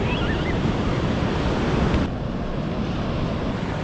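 Ocean waves break on a busy Canary Islands beach in a loud, steady rush of surf mixed with wind buffeting the microphone, with no pause across the stretch.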